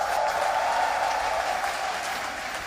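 A large live crowd at the ESL One Birmingham Dota 2 grand final cheers and applauds, a broad steady roar of clapping and voices that holds strong and eases slightly toward the end.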